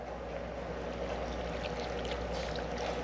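Beef broth poured into a cooking pot for a whitetail deer shoulder roast, a steady continuous splashing trickle of liquid at close range, with no talking.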